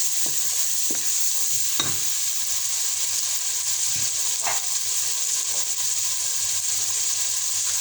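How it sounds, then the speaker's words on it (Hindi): Palak chicken with turmeric being stirred in a sizzling pan, a continuous close frying hiss broken by a few scraping strokes of the spoon, no voices over it. "अब हम इसको इस तरह हिलाएंगे।"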